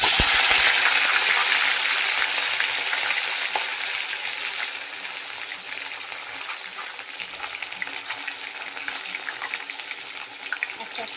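Rohu fish pieces rubbed with salt and turmeric fry in hot oil, a loud dense sizzle close up that settles into a steadier, slightly quieter crackle over several seconds, with no talking.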